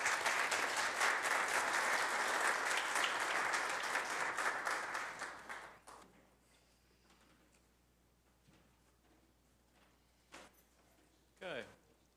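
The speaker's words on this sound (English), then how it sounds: "Let's give a round of applause." Audience applause fills a city council meeting in Oklahoma City, steady dense clapping for about six seconds before it fades out, leaving a quiet room with a few scattered knocks and rustles.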